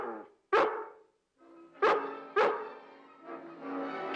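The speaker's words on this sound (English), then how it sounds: "Keep that dog away from me now." A dog in a 1959 Lassie episode barks several times in short, loud, close bursts separated by pauses, with a few softer yips toward the end.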